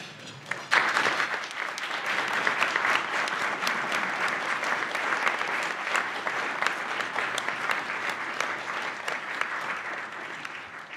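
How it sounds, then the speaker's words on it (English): An audience at a university anniversary keynote event breaks into sustained, steady applause lasting the whole stretch, dense clapping with no speech over it. "please stand up for a round of applause"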